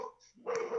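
A dog barks close by in a short, sharp burst following a quieter lead-in, with no talking over it.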